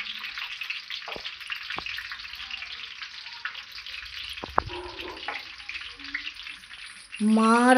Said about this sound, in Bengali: কাঁচা লঙ্কাটা একটু ভাজা হয়ে গেলে